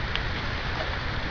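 Steady rain pours down at a wet forest campsite near a rock face, a dense, even hiss with soft patter that stays close and constant throughout, with no voices.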